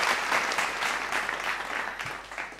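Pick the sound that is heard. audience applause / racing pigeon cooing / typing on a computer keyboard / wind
audience applause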